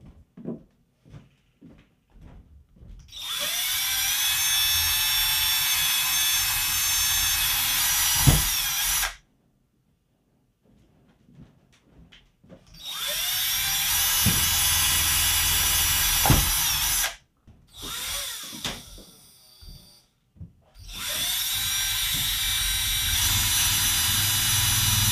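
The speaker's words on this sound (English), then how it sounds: "and we're gonna drill some holes." A power drill with a quarter-inch bit bores holes in plastic jar lids over scrap wood, three long loud whining bursts separated by pauses with small clicks and handling noises.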